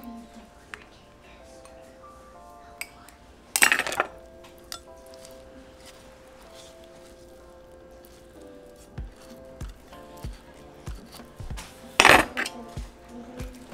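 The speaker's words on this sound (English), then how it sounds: "So scoop them out and put them in your bowl." Diced vegetables for Mexican hot dogs being scooped into a bowl: soft scraping and clinks of utensils and dishware, two sharp loud clatters, and scattered light taps near the end, close and otherwise quiet.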